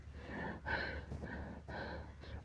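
A storyteller's voice imitates heavy, ragged panting, with rapid audible gasping breaths repeated in quick bursts, close and fairly quiet.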